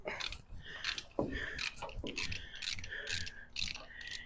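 Ratchet wrench loosening exhaust manifold bolts on a 1971 Ford F100 pickup, producing repeated close metallic clicking bursts with brief pauses, steady and fairly loud throughout.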